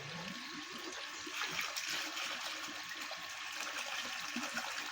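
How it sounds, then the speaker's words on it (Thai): Water gushing strongly from the outlet of a homemade airlift pump built for a koi fish pond, a steady close rushing and splashing flow that holds without pause. "เราได้น้ำที่มันไหลแรงกว่าเดิมนะครับ"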